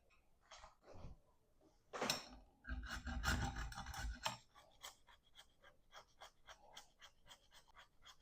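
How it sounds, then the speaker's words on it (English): Chocolate rasped against a grater for Jamaican chocolate tea, quiet irregular scraping strokes up close, a dense burst of rapid grating in the middle followed by a string of short, evenly spaced strokes. "when you grate the chocolate"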